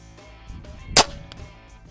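A single sharp airgun shot cracks out once, close and loud, during target shooting with a Hatsan, Gamo or Benjamin air rifle, followed by a faint lingering tail against a quiet background.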